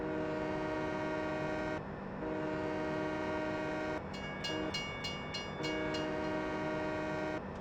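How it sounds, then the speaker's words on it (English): A Farming Simulator 17 train sounds a long, loud steady horn blast. It breaks off briefly, returns with a quick series of short pulses, then holds again over the constant rumble of the train. "Try to do a little bit of legit honking there as we went through that."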